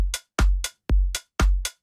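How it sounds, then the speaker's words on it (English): Organic house drum groove: punchy kicks with deep boomy tails alternate with short, bright open hi-hat hits trimmed to sound snappy, in a tight, even, repeating pattern. "But if we add an open hi-hat, it sounds a bit more energetic."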